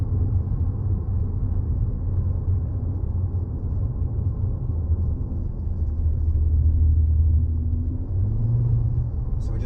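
Bentley Continental GT Speed engine pulling hard from low revs, a deep sustained rumble heard from inside the cabin with a rise in intensity toward the end.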